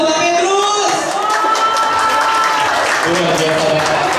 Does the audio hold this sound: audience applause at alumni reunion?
yes